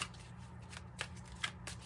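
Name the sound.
shuffling tarot cards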